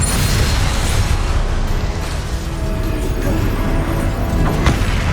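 A blasting curse explosion from the Hogwarts Legacy video game, a loud continuous boom and rumble with crackling debris that stays heavy throughout, with no voices.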